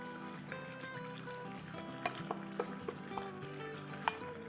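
A metal spoon stirs tomato and ground masala in a karahi pot, with soft scraping and several sharp clinks against the metal, fairly quiet over faint background hum.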